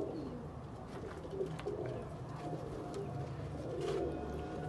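Sialkoti pigeons cooing in a loft, soft low repeated coos over steady background noise, fairly faint and without talk.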